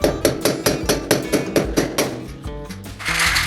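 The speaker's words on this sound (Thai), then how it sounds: "การตอกสากก็จะออกมาประมาณนี้เนาะ" Anchors are hammered into a ceiling frame during a do-it-yourself ceiling installation, with a fast, even run of loud close blows about four per second. The strikes then slow into a few lighter taps.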